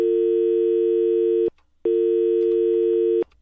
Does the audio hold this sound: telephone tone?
yes